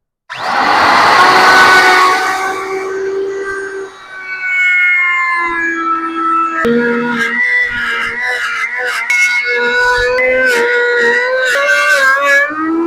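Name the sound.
router cutting through plywood with a circle jig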